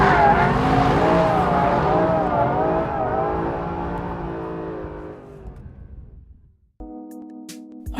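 A Mercedes SLS AMG Black Series slides on a race track with its tyres squealing and its engine roaring loud and close, fading away over several seconds before a sharp cut to a quieter engine note.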